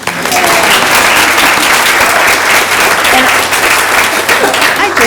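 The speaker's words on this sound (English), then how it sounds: "And with celebration, let's clap for her, yes." An audience claps steadily for about five seconds in a gathering, dense and loud throughout, with no speech over it.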